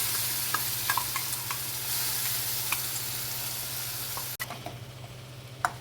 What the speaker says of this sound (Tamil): இந்த மசாலா இந்த வெங்காயத்தோடையும் ஊற்றி இது நல்லா வதக்கிடலாம்